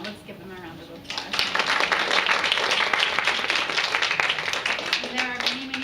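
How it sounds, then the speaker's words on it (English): An audience at a PTO school event gives the board a round of applause, a steady wash of many hands clapping that swells after a second and holds to the end. "Let's give them a round of applause."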